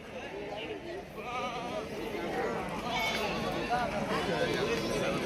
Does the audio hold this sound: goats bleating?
yes